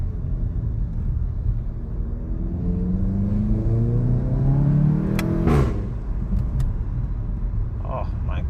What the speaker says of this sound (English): Man, that exhaust is just something else.